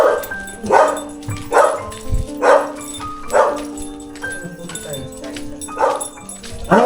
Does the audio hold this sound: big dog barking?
yes